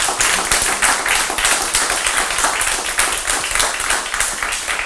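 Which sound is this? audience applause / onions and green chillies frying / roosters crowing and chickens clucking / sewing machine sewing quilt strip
audience applause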